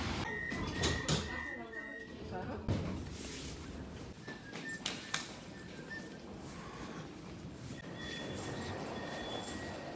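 A Budapest metro train rolls along underground with rumbling wheels and high squealing tones, while people talk nearby.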